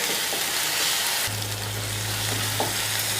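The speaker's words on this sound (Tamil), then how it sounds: "வெங்காயத்தோடு சேர்த்து வதக்கணும்." Onions sizzle with ginger garlic paste in a pan for pepper chicken, a steady dense frying hiss close up, with a low steady hum joining partway through.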